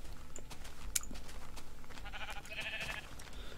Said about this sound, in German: Schaf, ich komme. Bleib stehen, ich brauche deine Wolle.